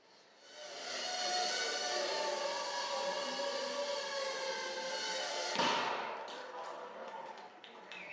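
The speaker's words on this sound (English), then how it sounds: "That little bang is enough to penetrate the skull and destroy the contents." A drone carrying a 3-gram shaped explosive charge sets off a small, sharp bang that cuts through a long, steady whooshing drone and then fades into a quieter rattle.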